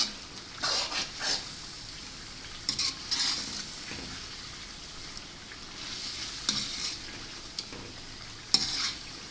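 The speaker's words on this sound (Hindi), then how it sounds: "अच्छी तरह हम इसकी भुनाई कर लेते हैं।" Chicken karahi, street style from Karachi, Pakistan, stir-fries in a wok with a soft, continuous sizzle, broken by bursts of scraping and clanking as a spatula turns it, with no talking.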